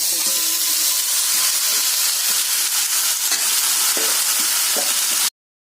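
Chicken hits sautéed onions in a hot pan, giving a loud, steady sizzle and frying hiss with occasional stirring clatter, close and continuous until it cuts off abruptly.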